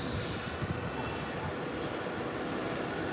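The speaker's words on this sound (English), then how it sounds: "Aircraft coming down." A jet airliner descends toward a runway to land, a steady broad engine roar that holds fairly loud and even throughout, with nothing else standing out.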